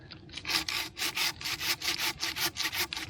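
Large hand saw cutting through a thick wooden log, a steady series of rhythmic rasping back-and-forth strokes, close and fairly loud, with no talking.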